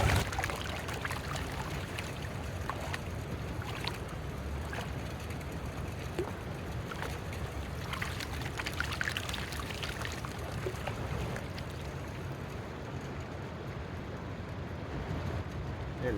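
Sand panned for gold in water by hand, a continuous close sloshing and swirling of water with gritty washes, steady throughout and fairly quiet.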